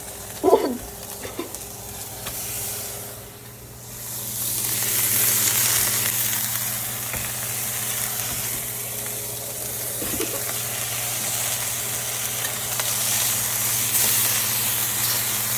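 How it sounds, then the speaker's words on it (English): Bacon frying in a pan, giving a steady, loud sizzle and hiss that runs throughout, with a few brief bumps near the start and no talking. "While you're making your bacon, it's important to flip it so it doesn't burn."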